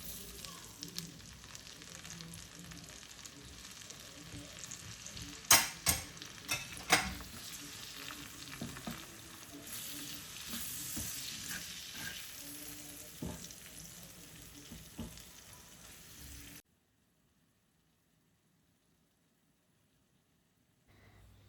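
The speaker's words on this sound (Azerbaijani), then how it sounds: "köftələri qızartdığım tavaya biraz kərə yağını alıb pomidorları tökürəm" Peeled, chopped tomatoes fry in butter in a pan used earlier for meatballs, giving a quiet continuous sizzle with a few sharp clatters near the start, then cutting to near silence for the last few seconds.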